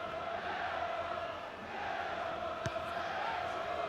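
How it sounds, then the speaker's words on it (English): A vocal rugby crowd at Sandy Park on a balmy evening as Exeter Chiefs face Newcastle Falcons in the Challenge Cup, a distant, steady wash of cheering and chanting with one brief sharp knock. "great vocal crowd as you'd expect"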